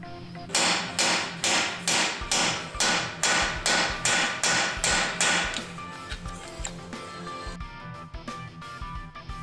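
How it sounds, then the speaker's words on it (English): Steady, evenly spaced metallic hammer blows ring out as a bearing is driven into a Chevrolet rear axle housing, about a dozen in a row, then the strikes become lighter and more irregular. "you will hear a solid sounding thunk when the bearing is fully installed into the housing"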